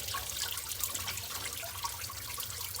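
Water trickles and dribbles out of a waterlogged Detroit Diesel 8V92 engine, a faint, close, uneven splashing that carries on steadily with no voices.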